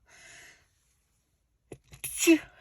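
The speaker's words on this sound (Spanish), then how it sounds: "Es que no quiero estornudar." A crocheter's sneeze, with a faint breathy vocal sound first and then a short, sharp burst from the nose and mouth near the end.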